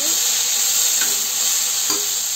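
Steady, loud sizzling of tomatoes frying in a pan, a continuous hiss with a couple of faint clinks of stirring.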